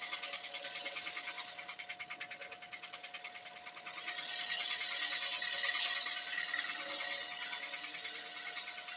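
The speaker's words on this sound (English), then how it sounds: "I'm just presenting the bowl gouge almost like a skew, really, on that little area" Bowl gouge shearing across a spinning wooden bowl on a lathe, a steady hissing scrape that softens for a couple of seconds then returns louder and sustained, with no talking.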